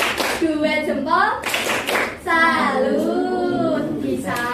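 Children in a classroom chant the Indonesian tepuk salut clapping routine, their voices loud and close, with sharp hand claps mixed in among the sung words over a few seconds.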